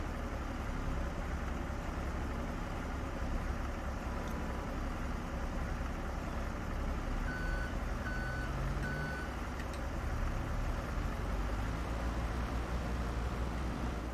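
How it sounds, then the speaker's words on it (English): A forklift in Farming Simulator 22 reversing, its steady evenly spaced beeps sounding over a continuous low engine rumble, fairly faint and without talk. "It's a nice little forklift, though"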